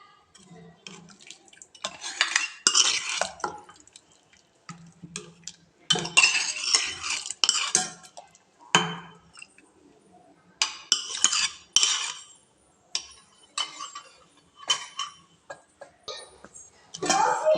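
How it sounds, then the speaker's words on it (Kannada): Hot tempering poured into a pot of vegetable sambar, giving sharp bursts of sizzling and crackle, with spoons clinking against metal between the bursts. "ಒಗ್ಗರಣೆ ಕೊಟ್ಟಿದ್ದು ಹಾಕ್ಕೊತಾ ಇದ್ದೀನಿ"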